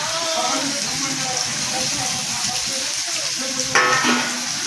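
Tomato and vegetables fry in a pan with a loud, steady sizzle, and a voice talks over it throughout.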